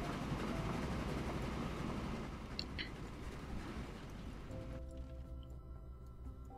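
Train rolling along in Train Fever on a steep gradient, a steady low rumble and clatter that thins out after a few seconds, leaving a quieter mechanical drone.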